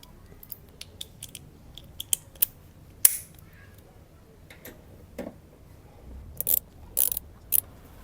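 A hand torque wrench from a popular socket set, set to 27, tightens a fastener in a quiet room, giving a scattering of sharp, close ticks and clicks at irregular intervals.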